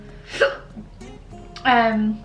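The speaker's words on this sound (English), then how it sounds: "this is my acid reflux that made me hiccup" Two hiccups caused by acid reflux, a sharp voiced catch followed a second later by a longer squeaky hiccup, close and clear with no other talk.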